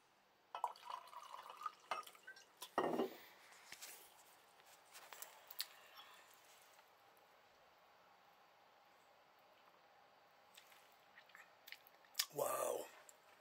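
Bolivian flavored wine being poured and sipped from a glass up close: a short liquid splash and gulping sips in brief bursts, separated by a long quiet stretch.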